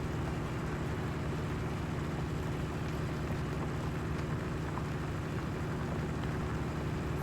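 A tractor engine in Farming Simulator 19 on the Geiselsberg map runs as a steady, droning low rumble with a broad hum, unbroken throughout and with no voices.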